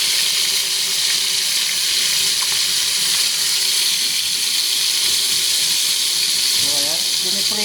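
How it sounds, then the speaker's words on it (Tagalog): Steady hissing sizzle of chicken breast frying in hot oil, broadband and continuous, close by, with a brief voice near the end. "Piniprito na po natin itong chicken breast."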